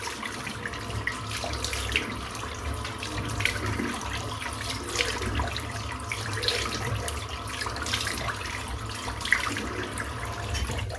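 Water runs steadily from a tap for a rinse after a head shave, a constant close hiss and splash with small bursts of spatter throughout.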